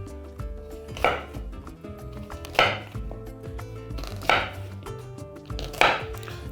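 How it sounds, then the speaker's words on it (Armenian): A knife slicing quince on a board, four sharp, evenly spaced chops roughly a second and a half apart, close and clear with no talking. "և կտրատում ենք շերտերի։"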